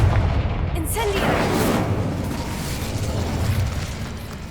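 Spell explosions in the video game Hogwarts Legacy: a sharp booming blast with a bright burst, followed by a long rumbling, crackling decay that lingers loudly through the rest of the moment.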